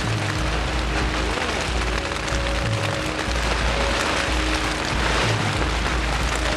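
A storm with strong wind and heavy rain hitting a tent in the Canadian wilderness: a loud, steady roar of rain on fabric with gusting low rumbles throughout and no voices.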